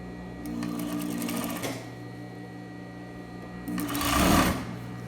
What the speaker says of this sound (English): So I'm going to start sewing at half an inch.